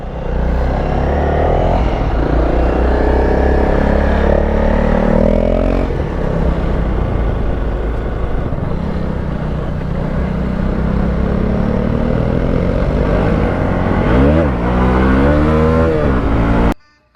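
Dirt bike engine, a Honda CRF 300L or Hero Xpulse Pro, revving hard and loud up close, with sustained throttle, a few rising and falling pitch sweeps near the end, then abruptly cutting off.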